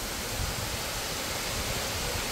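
Savatkada waterfall in Chunavane, Konkan, roars steadily as a dense, unbroken wash of falling water, loud and close throughout with no voices.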